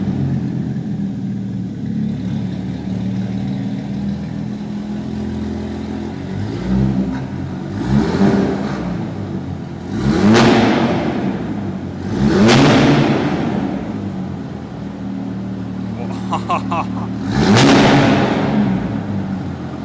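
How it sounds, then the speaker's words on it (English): An HWA EVO sports car revs repeatedly: the engine idles at first, then blips sharply four times in succession, each rev rising fast and dropping back. It is loud and close, with no talking. "now we will be actually listening to the sound of the HWA EVO"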